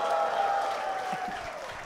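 A short burst of audience applause in a talk setting, fairly soft and fading over about two seconds beneath a held tone.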